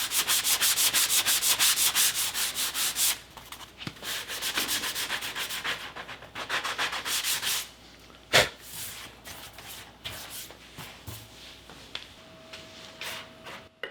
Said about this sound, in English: I hand sanded the walnut to 180 grit with some sanding sponges.